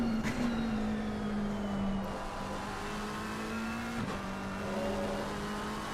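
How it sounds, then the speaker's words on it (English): A McLaren race car in Assetto Corsa at Paul Ricard, its engine holding a steady, droning pitch with brief dips around shifts. The car sounds fairly close and runs continuously, with no talk over it. "car number 444 is our only McLaren, and possibly the loudest car"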